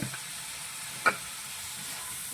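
Vegetables seasoned with salt and pepper sautéing in a pan for noodles dosa, a quiet continuous sizzle with one brief spatula clink, no voices.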